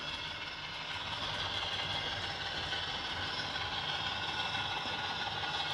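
A Trix 24019 Mehano Tiger model train runs along its track with a faint, steady mechanical whir and fine rattling hum, holding an even level with no clear change in pace.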